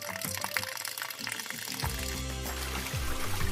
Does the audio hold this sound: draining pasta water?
yes